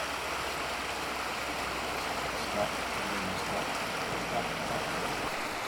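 A rushing river heard from a moving vehicle on the coast road to the Isle of Skye, a steady broadband wash of fast water that stays constant throughout with a faint voice murmuring briefly underneath.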